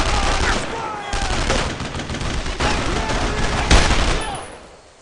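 Sustained suppressing gunfire in the Brothers in Arms: Road to Hill 30 video game, several rifles and machine guns firing overlapping close bursts in dense, crackling volleys that briefly ease before a final sharp crack and fade.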